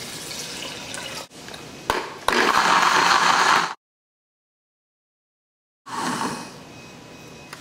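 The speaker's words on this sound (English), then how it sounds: "Now we're going to put the ingredients through the blender." A blender whirring through soaked almonds, dates and water, several loud bursts of motor and churning liquid broken by a full pause, then starting up again close by.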